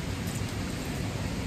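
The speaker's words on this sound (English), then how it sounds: "And then on the way there, it started raining pretty hard." Steady hard rain pouring down, heard from shelter beneath a bridge, a dense continuous hiss with low rumble, fairly loud and unbroken throughout, no voices.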